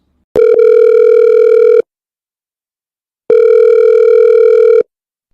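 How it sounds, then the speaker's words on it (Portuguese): Two long, loud electronic telephone rings, each steady tone lasting about a second and a half, separated by a silent pause, with no voices. "o canal Oi Luiz conseguiu imagens exclusivas do telefonema entre Lula e Donald Trump"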